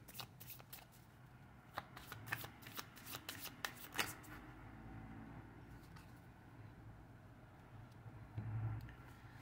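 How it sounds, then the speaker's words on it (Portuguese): Tarot cards being shuffled by hand in repeated quick riffling bursts, close and crisp, over a low rumble of passing traffic in the background. "Caíram as 3 cartas"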